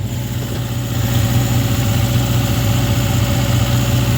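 A car engine idles steadily and close by, a loud low rumble with an even, constant throb and no voices.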